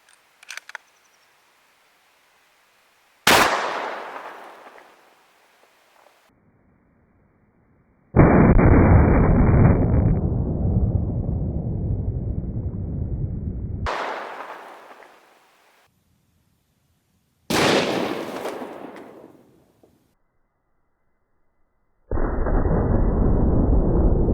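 .223 rifle firing Hornady 40 grain V-MAX rounds into water jugs outdoors, three sharp loud shots with decaying echoes, interspersed with two long bursts of broadband noise.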